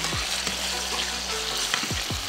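Garlic with hot, green and red peppers frying in a pan, a steady loud sizzle broken by several scraping strokes of stirring.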